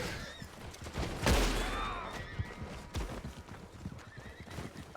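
Horse neighs and gallops in the Red Dead Online video game, hooves clip-clopping steadily throughout with a loud whinny near the start, joined by faint scattered gunshots.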